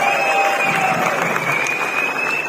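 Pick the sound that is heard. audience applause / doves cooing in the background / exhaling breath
audience applause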